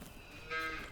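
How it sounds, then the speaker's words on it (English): Cow mooing in the farming game Farming Simulator 19, a single short, faint moo rising in the second half of the moment, alone without talk. "Lots of cows now."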